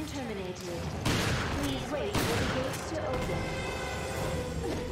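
A pulse grenade goes off in the video game Resident Evil Revelations, a dense burst of explosive, crackling noise surging at about one and two seconds over constant game clamor, with someone talking throughout.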